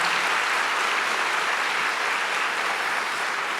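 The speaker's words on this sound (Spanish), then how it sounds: "denle un aplauso al Señor" A church congregation applauds the Lord in a sustained, dense wash of clapping that holds steady and loud from start to finish, with no talk over it.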